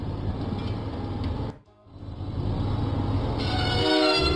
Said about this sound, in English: Diesel arrived proudly at Farmer McCall's farm.